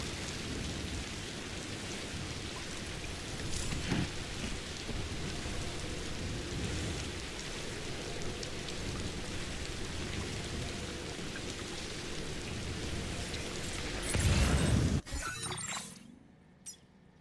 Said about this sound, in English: Acid रैन चल रहा है भाई।